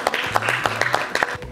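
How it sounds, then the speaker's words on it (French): A short burst of audience clapping at an African cultural festival seminar as a guest speaker is welcomed, a few distinct claps close by over a low hum. "Vos applaudissements, s'il vous plaît"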